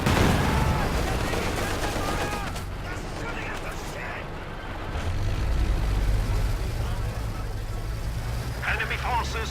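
MG42 machine gun bursts in a World War II strategy video game, loud rattling fire layered with explosions and a rumbling battlefield din, with speech heard over it.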